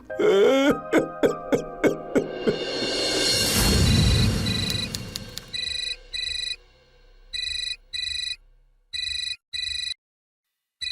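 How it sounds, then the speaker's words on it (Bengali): A rapid series of electronic notes gives way to a noisy swell, then a phone ringtone chirps in repeated short bursts separated by brief pauses. "ফোন বাজছে।"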